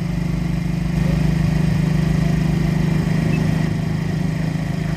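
A Yamaha Mio J scooter with a replaced injector, which starts hard and stumbles and stalls, runs with its throttle held open. The engine gives a close, loud, steady buzzing putter for the whole stretch, slightly rougher at the start, with no talk.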